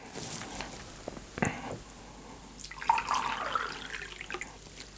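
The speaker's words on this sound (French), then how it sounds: "Voilà, on va remplir la fiole jaugée. Donc j'ajoute l'eau" Tap water runs into a glass volumetric flask during a vinegar dilution in a chemistry lab, a steady splashing pour with a brief gurgle near the start and a rising fill later, fairly close and alone.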